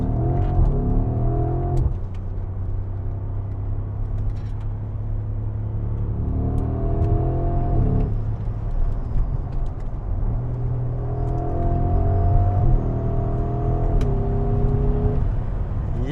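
A 2025 Audi SQ7 twin-turbo engine accelerating hard in dynamic mode, rising through the revs in several pulls with short pauses at each gear change, loud and close from inside the SUV.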